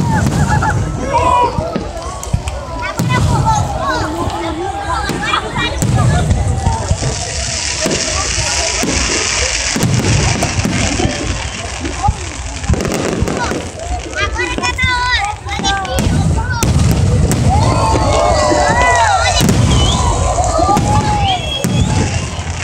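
Fireworks bursting close by at a display, with loud crackling pops and bangs through the whole stretch while a crowd talks and cheers over them.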